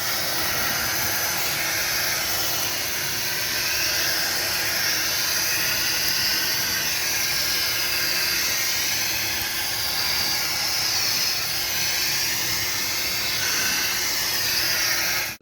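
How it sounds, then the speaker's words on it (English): A vacuum cleaner runs continuously while cleaning dust from a display shelf of collectible figures, a steady loud whooshing hiss that holds for about fifteen seconds with no talking. "we're gonna get the vacuum cleaner out and clean all this out"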